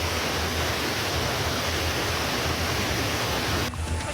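Torrential floodwater from the Tuntang River surging over a flooded road in Manggarmas village, Godong, Grobogan, Central Java, roaring steadily and loudly close by before cutting off abruptly near the end.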